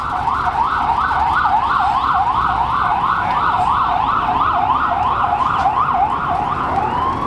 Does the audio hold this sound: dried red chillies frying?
no